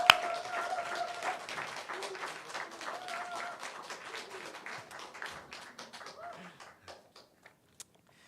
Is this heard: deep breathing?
no